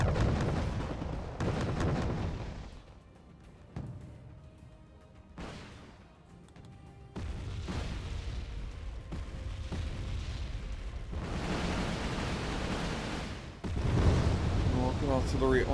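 Artillery barrages and explosions in the real-time strategy game Wargame Red Dragon, with repeated booming impacts and rumbling blasts that last through most of the stretch, and a voice commentating over them.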